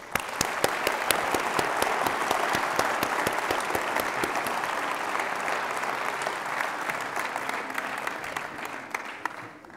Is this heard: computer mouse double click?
no